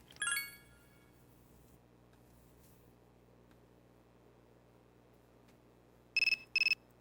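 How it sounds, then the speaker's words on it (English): A phone notification chime rings at the start, then two quick bright alert tones near the end, clear and close against quiet room hum. "fucking phone is blowing up right now"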